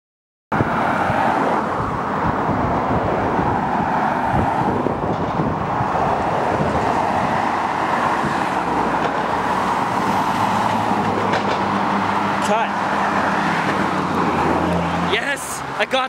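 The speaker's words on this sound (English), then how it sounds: "I just stood right here and panned with the car as it went by." Car passing close on a roadside in Oregon City, a loud sustained rush of tire and engine noise with wind buffeting on the microphone, swelling and fading over several seconds, a voice heard briefly near the end.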